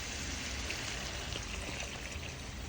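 One litre of water is poured into a pot of mutton curry, giving a soft, steady rushing stream that runs for the whole moment, faint and alone.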